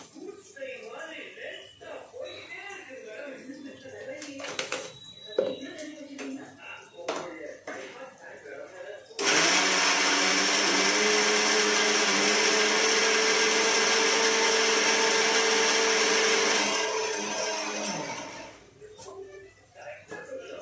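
A mixer grinder grinds spices with turmeric powder, a loud steady whirring roar running for about eight seconds, with quieter kitchen clatter and talk before and after.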